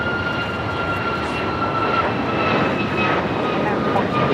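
An airliner on its takeoff run from runway 25 right at Los Angeles International Airport gives a loud, continuous engine roar. Faint radio voices sound beneath it.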